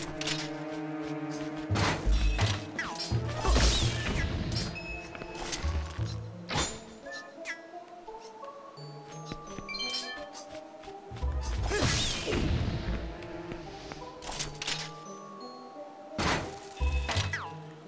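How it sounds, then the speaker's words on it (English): Heavy thunks and crashing smashes as Freezard ice enemies are broken in The Legend of Zelda: Twilight Princess HD, in the Snowpeak Ruins, several loud impacts spaced across the stretch with whooshing swings and game music between them. "I'm just taking out the Freezards right now"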